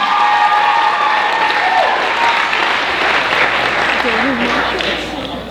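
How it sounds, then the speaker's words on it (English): A crowd at a school talent pageant applauds a contestant, sustained loud clapping with some cheering and whoops layered over it, easing slightly toward the close. "Round of applause, ladies and gentlemen."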